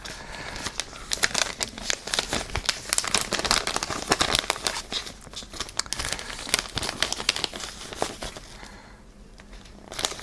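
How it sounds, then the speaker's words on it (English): Resealable plastic bag of stickers being opened and handled up close, with continuous crinkling and crackling of plastic in dense irregular bursts, easing off near the end. "So if you can open this, yes you can. It is a resealable bag, I think."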